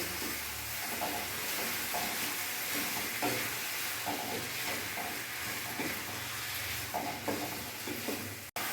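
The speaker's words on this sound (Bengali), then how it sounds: "আমি ভালোভাবে নাড়িয়ে মিশিয়ে নিলাম মশলার সাথে।" Spices being stirred in a frying pan for Bengali muri ghonto (fish head curry), a steady sizzle with repeated scraping strokes of a spatula, close and moderately loud, no talking.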